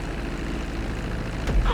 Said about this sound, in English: Now let's get the plane off the runway. Taxi over to the marked area